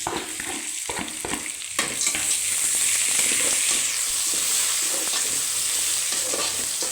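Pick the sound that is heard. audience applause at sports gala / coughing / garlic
garlic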